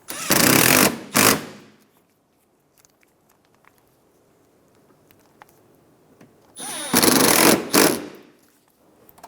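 Power tool driving two 10mm bolts on a 2014-2019 Toyota Highlander front bumper cover, two loud, short bursts of whirring separated by a quiet pause.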